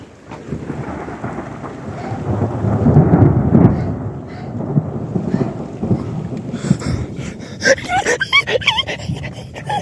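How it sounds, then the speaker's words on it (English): Thunder rumbles through a thunderstorm with heavy rain, a deep rolling boom swelling and fading, followed by sharper crackling noise and rain patter; loud and close. "Here goes thunder."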